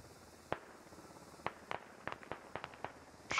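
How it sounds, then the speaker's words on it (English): Gunshots in the video game Squad during a firefight between infantry elements: a scattering of sharp, distant-sounding cracks, single shots at first and then a quicker cluster, over a quiet background. "Shots fired."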